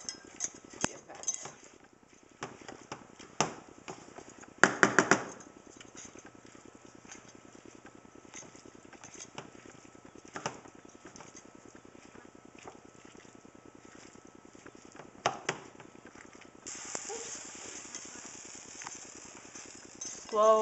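Carrot halwa being stirred in a pot for gajar ka halwa, giving a steady run of soft scraping and wet clicking contacts, with a few louder knocks of the spoon against the pot.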